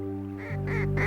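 Ducks quacking in a wetland in fall, a few clear, fairly close calls repeating over a steady low background hum.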